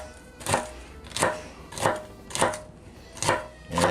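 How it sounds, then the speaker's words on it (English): A knife chops through stripped celery stalks on a cutting board in five firm, evenly spaced strokes about two-thirds of a second apart, close and distinct with no talk. "Chopping celery."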